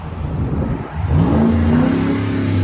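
A 2009 Ford F-150 with a 5.4L Triton V8 and Flowmaster Super HP2 dual exhaust revs up loudly and holds a deep, rumbling, rising exhaust note, close and continuous, with no talking.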